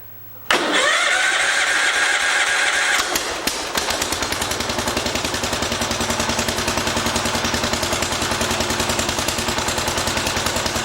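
A 1971 140 engine cranks for a few seconds with a loud whirring starter, then catches and settles into a steady, fast, rhythmic running close by.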